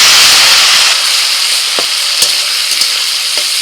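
Chopped tomatoes hit hot oil in a pan over an outdoor picnic stove, bursting into a loud, steady sizzling hiss with a few small pops and clicks.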